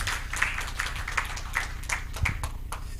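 Scattered, thinning claps from an audience at a policy round table as a speaker arrives, individual hand claps standing out unevenly at moderate loudness.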